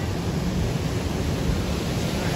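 Strong surf crashing on the beach at La Union, a loud, continuous roar of waves and rushing water filling the whole stretch with no break.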